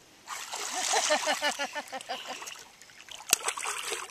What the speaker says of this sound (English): I can splash too!